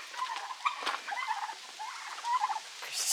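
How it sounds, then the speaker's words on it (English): Turkeys gobble and chatter excitedly over cucumbers tossed in a trough at a farm sanctuary, a burst of overlapping, close warbling calls. "the turkeys are going crazy"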